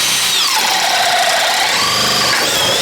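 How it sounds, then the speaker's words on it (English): Makita cordless drill running in high range while drilling, a loud continuous whine with rising and falling pitch as it powers through the material, close and alone. "The Makita just powers through this stuff even in high range."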